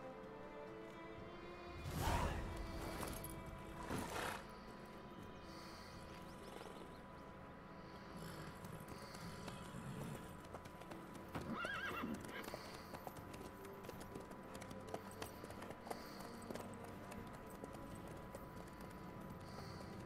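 A horse in The Witcher 3 video game clip-clops along in a steady, moderately close rhythm, with a couple of loud whinnies early on and whooshing game ambience underneath.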